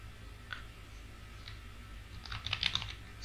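Keystrokes on a computer keyboard while typing into a drawing program, quiet and sparse at first, a few isolated clicks, then a faster close cluster of taps toward the end over low room hum.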